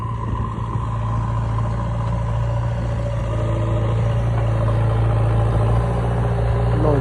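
A JCB machine and tractor trolleys work at a memorial site, giving a steady, loud diesel engine drone with a strong low hum that runs throughout.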